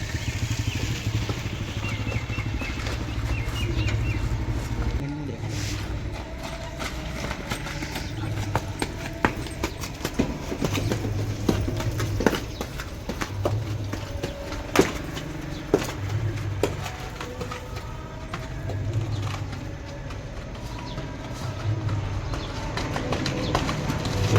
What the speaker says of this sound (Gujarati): ઘોડો છોડ્યો હોય અત્યારે